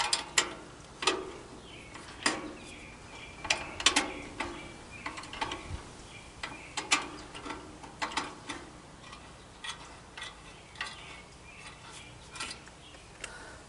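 Wrench tightening bolts on a Roper RT10 riding mower deck, a series of sharp metallic ratcheting clicks and clanks in irregular bursts, fairly close and moderately quiet.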